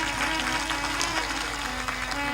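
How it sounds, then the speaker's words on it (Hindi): Audience at a live satsang gathering clapping in applause for a chief guest, a steady dense patter of many hands sustained evenly throughout without pause. "खड़े होकर प्रणाम कर ले, ताली बजाकर उनका अभिनंदन करें।"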